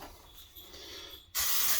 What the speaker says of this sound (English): A little shot of spray.